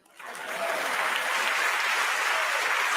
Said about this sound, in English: Don't get shy, clap your hands, come on.